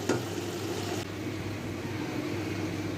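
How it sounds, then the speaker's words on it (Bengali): A spice paste of ground cumin and chopped tomato sizzles steadily in a pan for a coral fish curry, a continuous close frying hiss with a brief louder burst at the start, no voices. "এখন আমি মাছের তরকারিটা ভালোভাবে কষায় নিব।"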